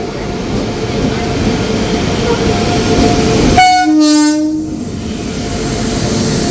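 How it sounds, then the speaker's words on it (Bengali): The Akal Takht Express, a superfast passenger train running Amritsar to Kolkata, rumbles loudly and close at a crowded platform at Patna Junction, with a long blaring horn blast midway over steady rail noise. "আমাদের ট্রেন এলো ডাউন অমৃতসর কলকাতা আকাল তখ্ত এক্সপ্রেস"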